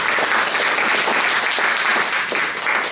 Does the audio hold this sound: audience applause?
yes